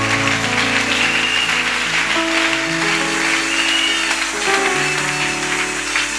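Church congregation applauding and cheering, a dense, loud, continuous wash of clapping layered over sustained keyboard chords throughout.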